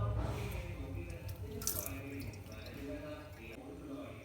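Tap water runs steadily into a sink while a face pack is rinsed off, a continuous close splashing wash with brief drips, and a voice talks over it.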